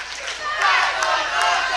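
Crowd at a CWF Mid-Atlantic Wrestling event cheering and clapping, a bright roar of many voices swelling over a couple of seconds, with a commentator's voice faintly underneath.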